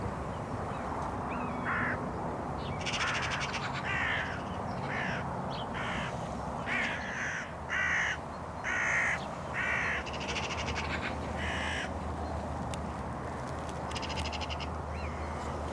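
Hooded crows caw repeatedly in short harsh bursts over a steady outdoor background, several birds calling back and forth at moderate distance as a buzzard arrives.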